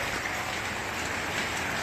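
Steady rain from Hurricane Harvey flooding in Houston, a dense even hiss of falling drops close by and constant throughout, with no talking.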